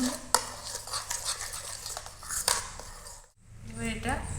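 Salt, turmeric and pepper powder being stirred in a bowl with a spoon for homemade tomato chips, soft scraping and clinks with a few sharper taps, close by and fairly quiet, with a voice heard briefly.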